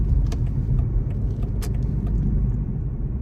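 Road traffic in a jam drones on in Salzburg, with a loud, steady rumble of car engines and tyres close by and occasional light rattles over the continuous noise.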